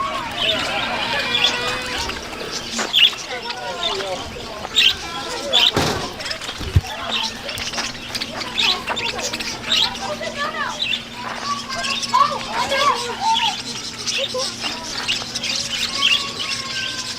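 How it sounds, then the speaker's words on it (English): Birds squawk and chirp around a feeding area at a walk-through safari park, a busy mix of close and distant calls under people talking and general crowd noise. "I think these birds are gonna get on you."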